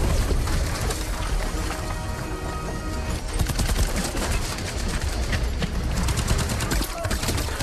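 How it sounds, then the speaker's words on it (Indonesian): A film shootout between terrorists and soldiers produces dense, rapid gunfire. The bursts come loud and sustained, layered over a busy, noisy battle background. "Terjadi baku tembak antara teroris dan para tentara"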